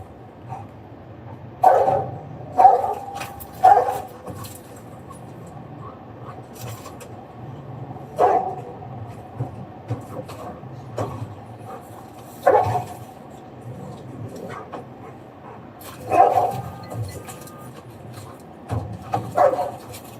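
A dog barks in spaced bursts from a short distance at a police stop, about eight separate barks over twenty seconds with low background noise between them.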